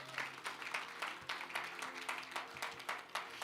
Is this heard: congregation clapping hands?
yes